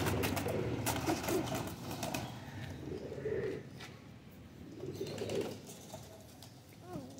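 Red-eyed Kasuri pigeons in a loft give soft, rolling coos that repeat and overlap, close by and moderately loud, with faint rustling and a few wing flutters in the background.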